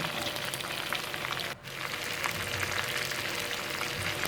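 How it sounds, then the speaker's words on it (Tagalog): Chicken necks fry in a pan for adobo, half-cooked pieces turned to brown the other side, giving a continuous close sizzling hiss with one brief dip partway through and no talking. "babaligtad ko lang siya para yung kabilang pisngi naman ang maluto"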